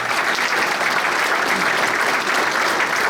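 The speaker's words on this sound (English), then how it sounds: "Give her a big round of applause, everybody." Steady, dense applause from a school audience at a congressional campaign event, filling the whole moment at even loudness with no voices over it.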